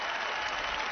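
The studio audience of Penn and Teller Fool Us applauds a volunteer named Barbara as she comes on stage, with a short burst of dense, even clapping.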